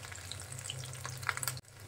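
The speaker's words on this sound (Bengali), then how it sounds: "ভাজা হোক" Steady crackling sizzle of beef potato cutlets frying in hot oil, close and continuous, with a few sharper pops before a brief sudden cut.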